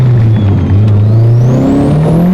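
A 600 whp turbocharged Honda Civic running on a dyno with about 20 psi of boost, its engine droning loud and close as it pulls steadily upward in pitch through a single sustained rev.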